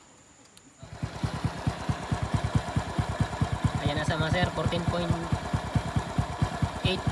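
A motorcycle being fitted with a full-wave rectifier idles with a quick, even putter that starts abruptly and runs steadily up close, while someone talks over it.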